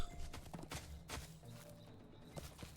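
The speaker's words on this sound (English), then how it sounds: "I'm having to go slower on my horse so I don't run into everything" Horse hooves clip-clopping at a walk through dense woods in The Lord of the Rings Online, a steady repeating rhythm of close, clear steps over a soft background of game ambience.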